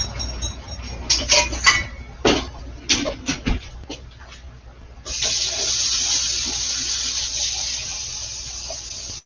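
A kitchen tap runs in a steady, close rush of water, after a few seconds of clinking pots and dishes at a home stove.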